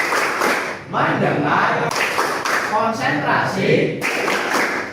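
A classroom doing the "tepuk fokus" clapping chant, voices chanting together with rhythmic claps and thumps mixed under the speech.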